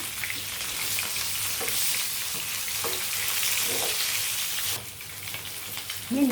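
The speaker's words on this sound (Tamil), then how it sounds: "மீன் நல்லா பொரிஞ்சிச்சு" Kingfish fries in hot oil with a loud, steady sizzle that fills the clip, followed by a brief stirring clatter near the end.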